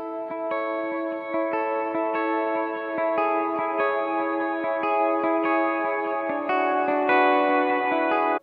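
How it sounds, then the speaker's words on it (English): Clean electric guitar notes picked one after another, each ringing out with repeating delay echoes and a wash of reverb filling the space. "show you how nice the delay and reverb can kind of work together"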